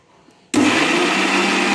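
A mixer grinder starts abruptly after a brief quiet moment and runs at full speed grinding prawn heads, a loud, steady whirring roar up close.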